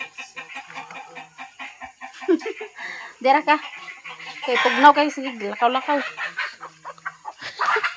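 Chickens cluck close by in short, repeated bursts while a person speaks Cebuano over them.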